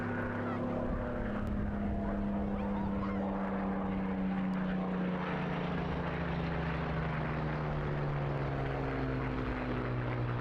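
A Mark 5B wartime aircraft flying at the Eastbourne airshow produces a loud, continuous droning engine roar whose tone slowly falls as it passes, filling the whole stretch with steady noise.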